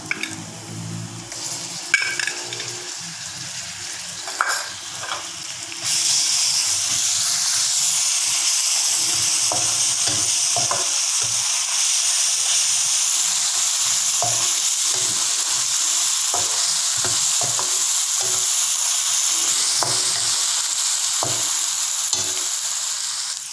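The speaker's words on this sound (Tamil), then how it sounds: "இப்போ நான் இஞ்சி பூண்டு போடுறேன்." Ginger and garlic frying in hot oil in a pan for black pepper chicken, a loud continuous close sizzle with occasional stirring scrapes and clinks, no talking.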